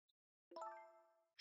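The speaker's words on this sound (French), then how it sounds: "Maintenant, c'est le téléphone qui est tombé dedans." A phone dropping into something in the video game Ghost Trick: one bright metallic clang that rings and slowly fades, ending in a short burst of noise.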